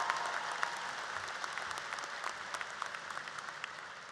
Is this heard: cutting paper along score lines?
no